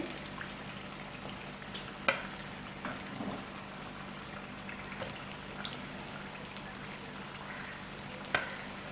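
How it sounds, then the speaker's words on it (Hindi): Chicken aloo samosas fry in hot oil with a steady low bubbling and sizzle, broken by a couple of brief clinks, and no one speaks. "ये अच्छी तरह से फ्राई हो चुके हैं, अब हम इनको निकाल लेंगे।"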